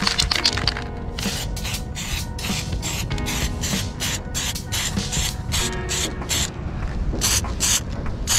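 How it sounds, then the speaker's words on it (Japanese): Aerosol spray paint hisses in repeated bursts of a second or so, with short gaps between them, close and loud as goggles are painted, with no talk. "スプレーこんな感じに塗りました。"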